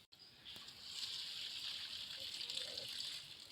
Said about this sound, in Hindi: अब हम इसे छान लेंगे।